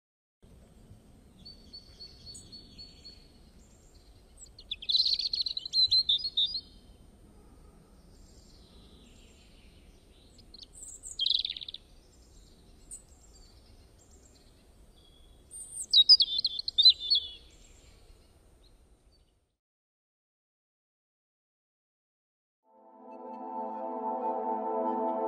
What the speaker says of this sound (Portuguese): Sempre que o player estivesse na floresta, ele ouviria canto de pássaros.